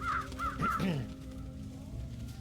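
Crows in the video game Trüberbrook caw three times in quick succession, followed by lower croaking calls, then fade into quiet ambient background.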